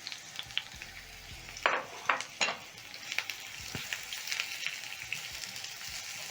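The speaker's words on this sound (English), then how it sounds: "Once the oil is hot, I'm going to add in my onions." Onions fry in hot cooking oil in a pan, giving a continuous crackling sizzle broken by a few louder spatters and stirring clatters early on, with no voices.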